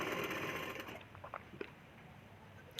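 A sewing machine stitches the seam of a katori blouse in one quick close whirring run that stops after about a second, followed by faint handling taps of fabric.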